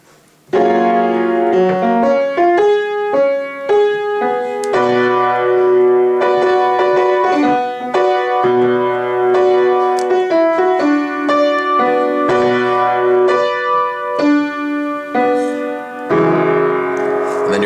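A piano plays the bridge of a song, a moderately paced chord progression with a melody on top, steady and fairly loud, with no voices.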